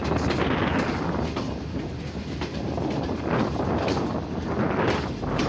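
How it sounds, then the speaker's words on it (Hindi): The Karakoram Express pulls into Khanewal Junction railway station, a loud, steady rumble of rolling rail cars with clickety-clack wheel beats, running alone without any talk. "अब कराकोरम एक्सप्रेस अराइवल करने जा रही है खानेवाल जंक्शन रेलवे स्टेशन पर"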